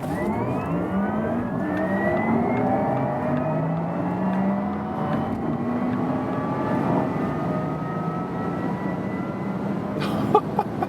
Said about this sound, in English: Then also there's this additional electric sports sound activated, and brace yourself because this acceleration here is absolutely insane.